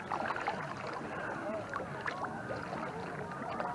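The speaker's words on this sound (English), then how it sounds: "I'll paddle in a little circle here before I paddle back into where Kim is." A small boat is paddled in a little circle on open water, with soft paddle strokes and water swishes against a faint breeze.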